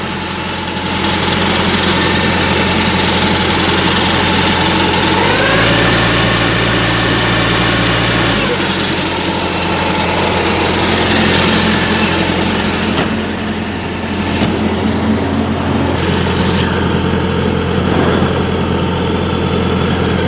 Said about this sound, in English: As you can see, my reefer is running